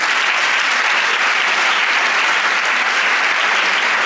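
A church congregation applauds together in steady, dense, loud clapping that holds evenly from start to finish, with no pauses and no talking.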